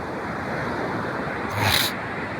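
Steady rushing surf from a surging sea that reached the houses onshore roars continuously, with a brief louder swell of water near the end, and no voices.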